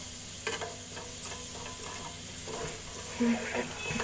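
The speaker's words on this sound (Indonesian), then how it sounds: "beserta dengan bawang putihnya semua saya bakar semua. Saya panggang di dalam happy coal." Garlic, curly chilies and shrimp paste roast in a Happy Call pan, with a low continuous sizzle broken by repeated light scraping and clinking of a utensil against the pan, fairly quiet overall.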